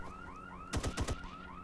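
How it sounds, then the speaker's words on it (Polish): An alarm in the video game I.G.I. 2 wails in a steady loop of rising sweeps. Midway, a short burst of rapid gunfire cuts across it. "No i alarm sam się wyłączy"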